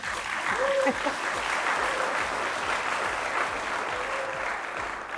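A television studio audience gives sustained applause, a continuous dense clatter of clapping hands at moderate volume, with a brief vocal cheer near the start and otherwise no talk.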